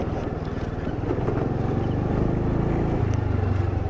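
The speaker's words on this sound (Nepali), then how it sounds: "नयाँ ट्र्याक्टर आएको होला." A new tractor's engine rumbles past on a road at night, a loud steady low drone that swells slightly as it nears, heard from a moving scooter with wind buffeting the microphone.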